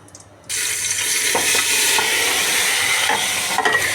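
Water pours into a hot cooking pot with ghee and spices, starting abruptly as a loud, steady close rush that runs for several seconds with small splashes.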